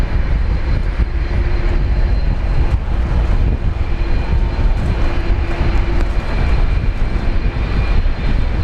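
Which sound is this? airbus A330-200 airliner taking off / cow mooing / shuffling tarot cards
airbus A330-200 airliner taking off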